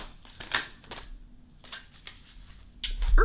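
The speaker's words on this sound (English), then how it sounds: "let's go ahead and start our shuffle" Tarot cards are shuffled by hand in soft, scattered bursts of papery riffling and tapping, separated by quiet gaps, with no talk.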